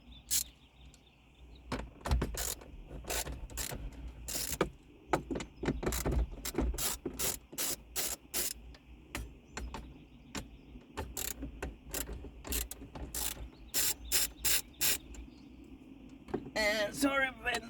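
A ratchet loosens a 10 mm bolt inside the dashboard of a Toyota RAV4 XA40 during a head unit swap: quick runs of sharp, close clicks in uneven bursts, with a brief voice near the end.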